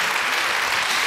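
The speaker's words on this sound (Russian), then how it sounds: "И бурные аплодисменты еще раз" Brief burst of studio audience applause on a televised quiz game show, a dense wash of clapping held at an even level for about a second.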